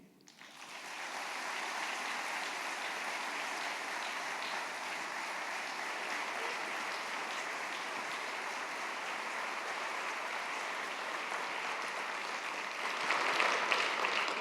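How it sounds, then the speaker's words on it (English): A large conference audience at an opening plenary applauds in a steady, dense wash of clapping that lasts throughout and swells slightly near the end, with no voices over it. "I'm sure we can manage a huge round of applause again for Mohammed Sidibé."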